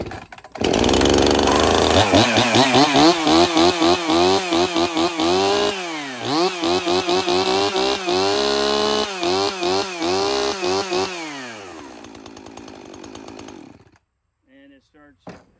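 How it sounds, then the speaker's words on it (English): A 24-year-old chainsaw is pull-started and then runs with a loud, steady engine roar that rises and falls as the throttle is blipped repeatedly, before cutting off near the end. "That's how you get your saw going. That's how you get it running."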